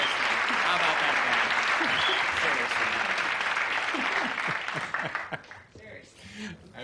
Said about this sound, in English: certainly you may applaud Mr. Schaefer